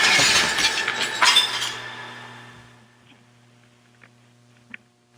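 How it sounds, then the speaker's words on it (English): Glass soda bottles smashing on an elevator floor: a loud, dense burst of shattering glass with a second crash, then fading tinkles and a couple of small, isolated clinks as shards settle. "So you broke a bunch of glass in the elevator."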